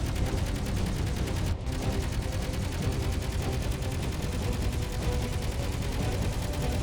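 An enemy turret keeps up sustained rapid gunfire in a survival video game, a dense, loud, continuous barrage that runs through nearly the whole stretch, with one brief break near the start.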